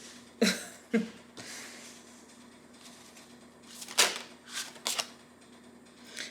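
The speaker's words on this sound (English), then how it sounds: "Let me just move these up a little bit, because these cards are really big." Large tarot cards shuffled and slid across a table during a reading, a few short papery bursts and swishes spaced irregularly, close and fairly quiet, with no one speaking.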